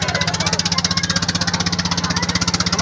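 Ferry engine idling before departure on a school picnic trip, a loud, close, steady rhythmic thumping chug with rapid regular pulses and no pause.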